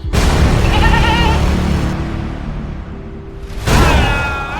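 Goat bleating at a Hindu temple sacrifice ritual, several loud nearby bleats, two wavering calls separated by a lower, quieter stretch.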